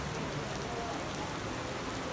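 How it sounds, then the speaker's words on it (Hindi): Heavy rain pours steadily over streets in Islamabad, a dense, even hiss with no breaks throughout. "यहाँ पे आया तो यहाँ पे भाई काफ़ी ज़ोर की बारिश लगी हुई है।"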